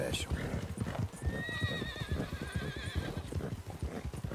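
A spooked horse in the Red Dead Redemption 2 video game, with a steady run of close hoofbeats on the ground and a drawn-out neigh in the middle, under a voice talking.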